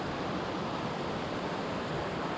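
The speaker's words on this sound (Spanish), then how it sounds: "Va costeando un arroyo con agua de deshielo." Glacial meltwater stream flowing beside a trail near a ski slope in Patagonia, heard as a steady, dense wash of rushing water with no breaks, fairly close and alone.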